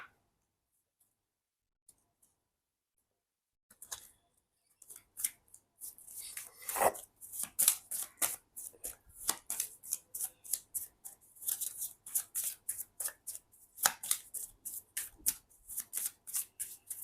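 Romance Angels oracle cards are shuffled by hand after a quiet start, a soft, rapid run of riffling flicks that repeats steadily at close range.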